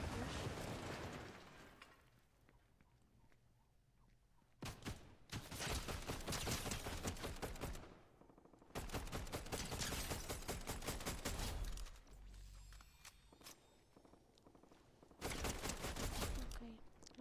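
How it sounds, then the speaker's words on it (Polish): Bursts of gunfire in a video game, several loud volleys of rapid shots separated by quieter gaps, fairly close. "Tam już ktoś strzela w nas"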